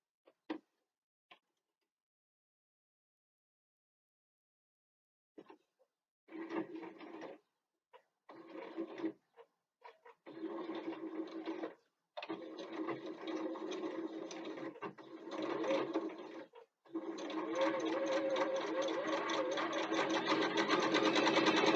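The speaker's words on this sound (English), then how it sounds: "So we're going to top stitch the slip pocket now, and then we're going to attach it to our lining piece." A home sewing machine top stitching a fabric slip pocket for a bookbag lining: a few isolated clicks and short starts, then steady rapid stitching bursts that lengthen into one continuous run, close and alone.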